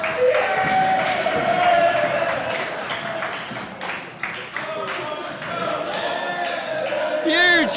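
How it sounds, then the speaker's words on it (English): A crowd at a British skittles match bursts into loud cheering and clapping, sustained and close, with shouts and a commentator talking over the din. "Huge cheers! I think that's possibly the biggest cheer of the season there."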